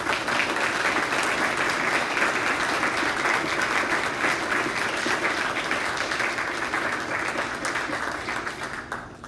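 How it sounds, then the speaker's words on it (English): A school honor society induction ceremony audience gives a sustained round of applause, dense steady clapping from many people that holds for several seconds and gradually thins toward the end. "Let's give both our current and new inductees one final round of applause"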